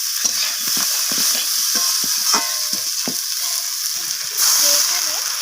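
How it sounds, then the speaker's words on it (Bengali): Fish curry made with morla fish, raw tomato and slit green chili sizzles steadily in a pan while a spoon scrapes and stirs it in a run of close, irregular clacks and clinks. "সমস্ত কিছু আমি আবারও নাড়াচাড়া করে কষিয়ে নিচ্ছি"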